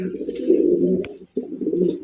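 A racer pigeon coos in low, steady, close rumbling phrases, broken by one short pause, with faint voices in the background.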